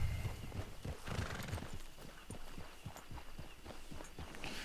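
A horse in Red Dead Redemption 2 clip-clops along with steady, rhythmic hoofbeats and lets out a whinny near the start, fairly close and clear with no talking over it.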